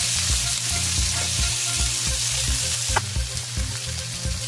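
Onions go into a hot pan where steak is already frying, giving a loud, steady sizzle close by with regular scraping pulses from stirring. No one speaks.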